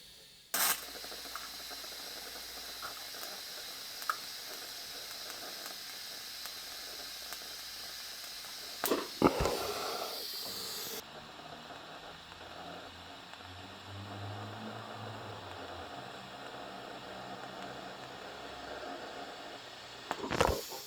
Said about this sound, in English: Right, that's welded quite nicely.